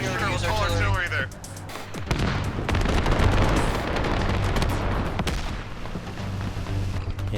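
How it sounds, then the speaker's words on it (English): An artillery barrage in a British armored battle group military simulation: rapid repeated booms and blasts rolling into dense, rumbling explosions, loud and continuous, with voices heard at times. "Alpha calls in one hell of an artillery barrage directly on its identified location"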